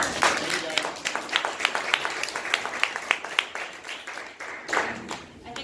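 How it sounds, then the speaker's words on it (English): A modest audience at a business presentation gives a round of applause, with distinct individual claps in a loose, uneven rhythm, fairly near and moderately loud. "All right, let's give him a round of applause."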